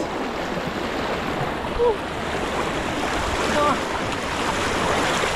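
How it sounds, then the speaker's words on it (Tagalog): A strong river current rushes in a continuous, loud roar of turbulent water close by, with gusts of wind buffeting the microphone. "Sobrang lakas ng agos."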